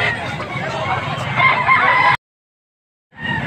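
A young stag rooster crows loudly at a Sunday open-air poultry market in Pampanga, close by amid market noise. The sound cuts to a brief silence, then the market din returns.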